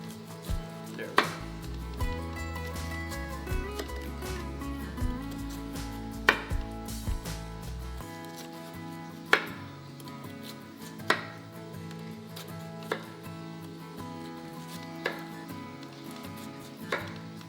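Knife chops through watermelon and Napa cabbage on a cutting board, sharp irregular knocks spaced a second or so apart, with a low hum in the first half and clatter between strikes.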